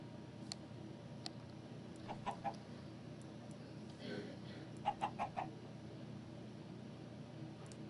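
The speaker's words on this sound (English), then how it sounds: "A chicken!" Minecraft chickens clucking in short bursts, a few soft clucks early and a quicker cluster of three or four in the middle, over quiet game ambience.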